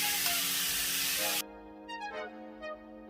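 Beef for shawarma searing in hot oil, a loud broadband sizzle for over a second that drops abruptly to a softer crackle with faint clinks.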